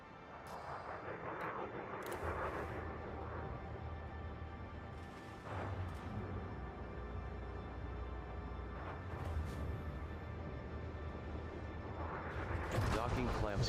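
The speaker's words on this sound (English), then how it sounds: "Docking clamps free. Ship released. Departure authorized." Spaceship undocking and pulling away from a station in the Elite Dangerous space game: a steady low engine rumble with whooshing surges and swells, growing louder toward the end, while a computer voice and a player speak over it.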